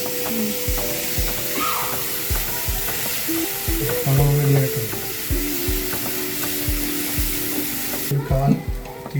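Salted onions sizzle steadily in a pan for a homemade chicken curry, a close, continuous frying hiss broken by regular scraping stirs, with faint tonal music beneath.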